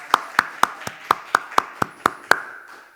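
A congregation at a New Year's Eve church service claps in slow unison, about ten sharp, evenly spaced claps ringing out clearly in a reverberant hall before fading.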